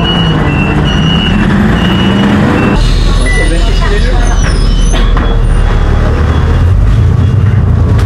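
City bus 912 pulling up on a Taipei street, heavy engine rumble and hiss of air brakes with a repeating beep and passing traffic, loud and close, with voices talking over it.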